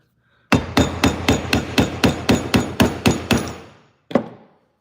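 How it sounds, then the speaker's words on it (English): Eleven sharp, evenly spaced hammer taps on a Holley two-barrel carburetor in a quick steady rhythm, close by, then a short pause and one final strike. "A couple taps with a hammer here."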